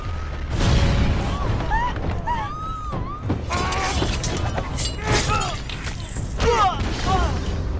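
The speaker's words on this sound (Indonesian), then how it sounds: "si penari entah bagaimana tiba-tiba melemparkan mercon ke arah Raja Sena dan pejabat kerajaan lainnya" Firecrackers hurled toward a king and his royal officials burst in a rapid, chaotic string of loud bangs and crackles, mixed with shouting voices and tonal cries throughout.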